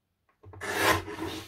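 A single short cut through paper or card for a scrapbook mini album, heard as a close dry rasping scrape lasting about a second after brief silence.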